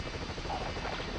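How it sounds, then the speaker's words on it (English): A helicopter in the PS1 game 007: The World is Not Enough gives off a steady, dense rotor-and-engine drone that holds at an even level throughout, with a faint low thump near the end. "Okay, bring the helicopter back"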